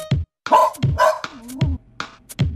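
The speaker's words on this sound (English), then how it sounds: "Was a farmer, had a dog, and Bingo was his name." Dog barks in a children's song about a farmer's dog, a few short yaps punctuating the music, loud and close, with no words spoken.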